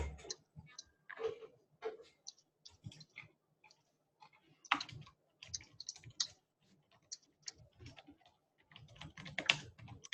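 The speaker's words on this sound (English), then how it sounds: "distracted by Camille's typing" Someone types on a computer keyboard during a team meeting call, with soft, irregular clusters of key clicks and short pauses, fairly quiet and close, with no talk over them.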